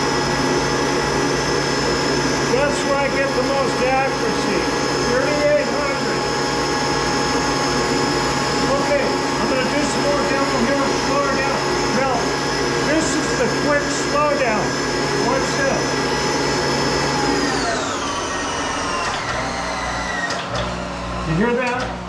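A Monarch 10ee lathe runs with a loud, steady whine and whirring hum, then its dynamic brake engages near the end, pulling the pitch down sharply as the machine winds to a stop.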